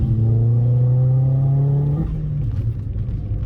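High-mileage, neglected Vauxhall Astra VXR Nurburgring pulling round a corner in second gear, its engine droning loud and close and rising in pitch, then cutting off into a lower rumble.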